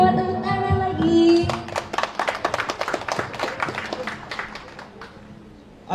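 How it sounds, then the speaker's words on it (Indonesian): Applause breaks out at the opening of a vocational school's creative economy exhibition in Indonesia, with many hands clapping in a dense patter after a sustained tonal sound, then tapering off. "Selamat tepuk tangan lagi."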